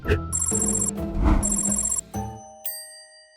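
A telephone bell rings in two bursts of bright, rapid trilling, with a tone and some low background hum, ending in a softer fading note.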